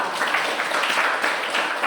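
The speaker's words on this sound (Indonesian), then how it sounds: "Tepat sekali, berikan tepuk tangan" Classroom applause from a group of students, a dense steady patter of hand claps lasting a couple of seconds without speech.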